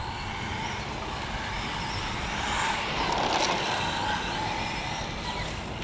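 An Arrma Infraction brushless 4S RC car with a 3674 2200KV motor drives around a parking lot, a continuous broadband whir and tire hiss that swells slightly midway, heard from a moderate distance.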